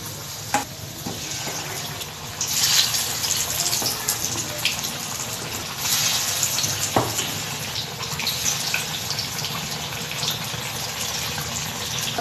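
Egg chops fry in hot oil with a continuous crackling sizzle, punctuated by occasional sharper spatters and clicks, moderately close with no talking.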